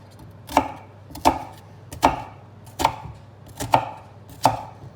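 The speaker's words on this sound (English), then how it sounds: "Cut them reasonably fine." A knife chops onions on a board, six evenly spaced firm thuds about once every 0.7 seconds, close and clear with no talking.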